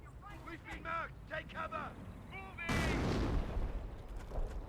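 An artillery barrage in Company of Heroes erupts in a sudden, loud rumbling burst of explosions midway, following a stretch where someone speaks over softer booms.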